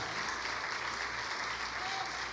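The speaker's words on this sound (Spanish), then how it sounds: "Si ese aplauso es para el Señor, délo más duro" Dense, loud applause from a congregation during a Sunday church service, a continuous wash of clapping with no pauses.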